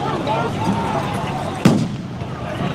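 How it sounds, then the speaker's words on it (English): Fireworks set off in a city street during a protest in Los Angeles, a single sharp bang cutting through steady crowd noise and chatter, with a brief echoing tail. "People are lighting off fireworks here on the streets."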